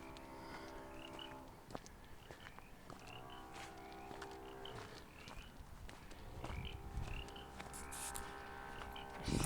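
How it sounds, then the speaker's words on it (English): Baja chorus frogs call along a canyon trail in an open space park in San Diego, a steady chorus of faint, repeated croaks with occasional footsteps crunching nearby and no talk. "Those Baja chorus frogs or Baja tree frogs are so loud."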